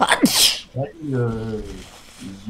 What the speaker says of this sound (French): Oula, pardon, je vais éternuer, je le sens.